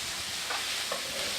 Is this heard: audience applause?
no